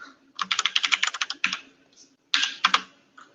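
Password being typed on a computer keyboard: a fast run of crisp, close keystrokes, a short pause, then another brief burst of clicks.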